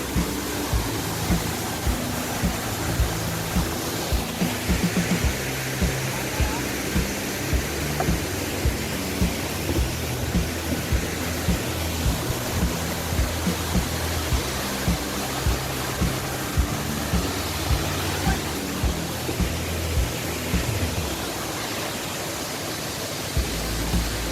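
Khlong Lan waterfall in Thailand, a steady broadband roar of falling water that stays loud and continuous throughout, with no voices over it.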